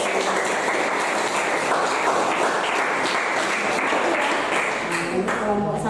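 Dense, steady clapping from a classroom group fills the whole stretch at even loudness, with a voice starting to speak faintly near the end.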